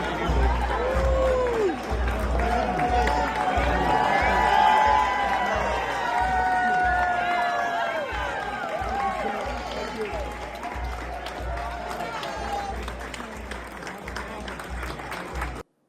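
A large crowd gathered in an airport corridor cheers and applauds continuously, with voices shouting and chattering throughout at a steady, loud level.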